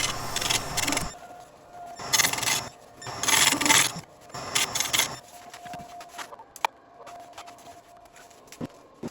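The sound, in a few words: scraper shaping and smoothing a wooden resin bowl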